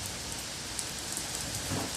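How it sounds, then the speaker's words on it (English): Heavy rain pours steadily during a thunderstorm in Poughkeepsie, a dense, even hiss of drops on surfaces with no talk over it. "We were at the mall and it wasn't raining this hard."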